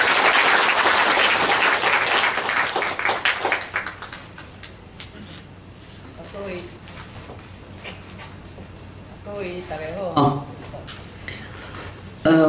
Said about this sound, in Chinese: 咱一个掌声来欢迎吴敏宏小姐